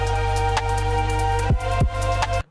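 A basic sawtooth synth with an envelope on its filter gives a bright, brassy, trumpet-like tone, playing a short run of sustained notes that change pitch several times before stopping abruptly, loud and close.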